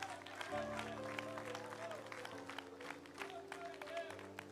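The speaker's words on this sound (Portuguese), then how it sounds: "Aplauda Ele com bastante alegria." A church congregation claps during a sermon, a soft wash of applause under sustained organ or keyboard chords, with a voice speaking over it.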